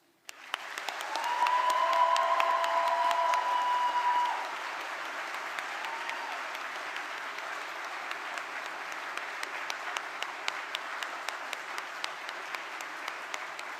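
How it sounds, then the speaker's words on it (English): The audience at a summer graduation ceremony breaks into sustained applause, loud and full at first, then settling into steady clapping that continues for over ten seconds in a large hall. "Let them hear your heartfelt thanks with the biggest round of applause ever."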